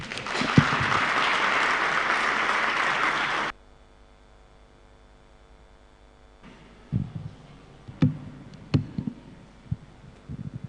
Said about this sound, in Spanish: Vamos a recibirla, por favor, con fuertes aplausos.